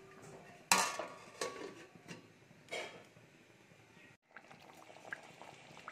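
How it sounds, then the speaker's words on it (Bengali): Fried potatoes simmering in a covered pot with a soft bubbling under clinks and clatters of a lid and utensil, including a sharp metallic knock early on, then a brief hush before the quiet bubbling resumes. "একটু ঢাকা দিয়ে মিনিট 5 ফুটিয়ে নেব"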